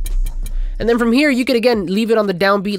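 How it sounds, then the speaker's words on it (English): A crisp, ticking hi-hat percussion sample in a reggaeton beat made in Studio One 4 opens briefly on its own, then keeps tapping faintly beneath someone talking close to the microphone. "Now the next thing you want to do here is add some sort of hi-hat or hi-hat element."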